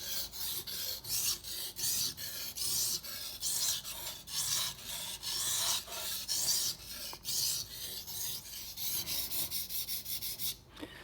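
A dull kitchen knife is drawn repeatedly across a wet sharpening water stone, making rhythmic rasping strokes about one per second, close and clear with no voices.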